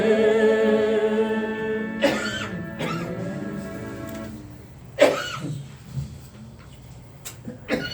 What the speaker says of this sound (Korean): 기침이다.